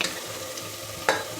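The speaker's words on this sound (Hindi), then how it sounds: "इसके साथ भी थोड़े गाजर को अच्छे से मिक्स करेंगे और साथ साथ भूनेंगे भी" Grated carrot halwa with mawa being stirred and roasted in a pan, a continuous soft sizzle with steady scraping of a ladle and one brief louder scrape, no talking.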